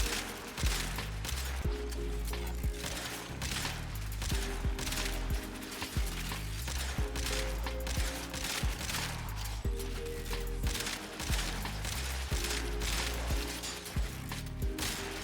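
Rapid Euphona Prime gunshots from Warframe gameplay fire in dense, continuous volleys throughout, loud and up close, with game music and effects layered beneath.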